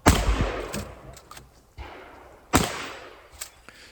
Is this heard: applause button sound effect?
no